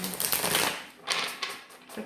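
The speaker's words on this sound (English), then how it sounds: "cards have been very difficult to shuffle" Tarot cards being shuffled by hand, a soft papery riffling and rustling in a few short bursts, close and fairly quiet.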